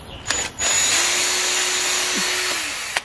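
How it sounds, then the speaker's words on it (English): A power drill whirs steadily for about two seconds, boring an 8mm hole into metal at close range, with brief clicks before and after. "next is to drill an 8mm hole"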